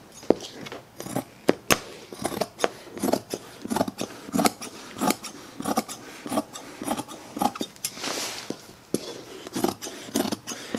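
Scissors trim the edges of a hand-tufted rug with close, repeated snips at an irregular rhythm, mixed with rough rubbing and scraping of the yarn pile.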